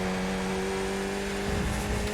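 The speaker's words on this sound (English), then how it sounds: "You like to really hear that engine struggle" A Skip Barber race car engine in a racing game lugs and strains in 5th gear, a steady low droning hum with a constant tonal whine, close and unbroken throughout.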